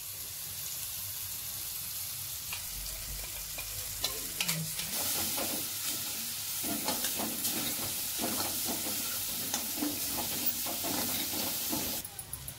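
Ground masala paste frying and being stirred in a pan at home for a garlic fenugreek (lasooni methi) dish, a steady close sizzle with repeated scraping stir strokes throughout, no talking.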